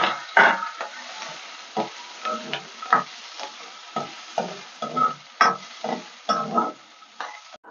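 Green chillies frying in a pan, a soft steady sizzle broken by repeated rhythmic bursts of stirring and scraping, close and moderately loud.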